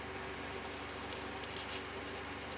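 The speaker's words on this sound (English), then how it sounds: "You wrap something around your finger and you put a little wax on it and just rub it." A cloth-wrapped finger rubs wax onto a part of a Chevy build, a soft steady close scrubbing with a faint swishing rhythm and no talk.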